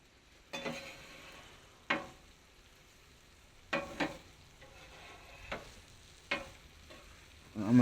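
A breakfast scramble cooks on a Weber griddle, with a soft sizzle broken by several sharp scraping strokes of a spatula as it is stirred.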